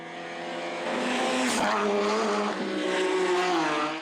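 A race car in an endurance race, a one-hour event for classes 4 and 5, screams past close by, its engine pitch rising and then dropping as it goes, with a second car following; no talking.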